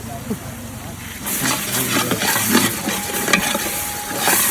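Masala paste sizzles and fries in a pan, stirred with scraping sounds, at a village party in a farm field; the frying grows louder after a moment, with voices murmuring nearby.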